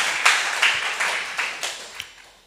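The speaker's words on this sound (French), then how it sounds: "on doit applaudir encore une fois la présence de Dieu dans la vie" Congregation clapping in rhythm during a Sunday worship and praise service in church, a series of sharp, evenly spaced claps that gradually fade out.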